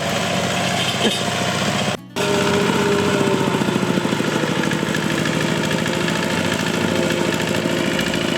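A homemade mini tractor built from scrap metal idles with a steady, rapid chugging rattle, close and loud, broken by one brief cut-out before it continues running.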